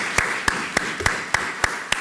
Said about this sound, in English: So let's give a round of applause to our entire panel.